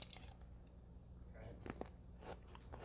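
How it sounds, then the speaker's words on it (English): Someone bites into a pickle, giving a few short, sharp crunches followed by soft chewing, all close and fairly quiet against a faint background hum. "That sounded like a pretty good crunch."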